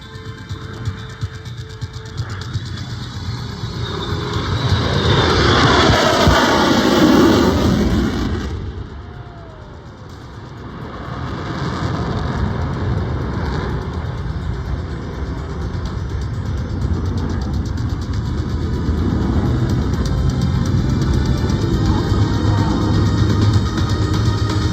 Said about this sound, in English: Just have a look at the maneuverability of this aircraft.